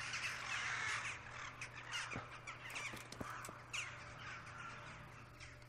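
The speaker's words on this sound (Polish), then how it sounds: "Ten taki pogłos, to echo lasu, jak się wzbiły te ptaki, no coś niesamowitego." Crows caw repeatedly as birds take flight in a forest in the video game Kingdom Come: Deliverance, several calls echoing through the trees over a quiet ambient backdrop, fairly distant and soft.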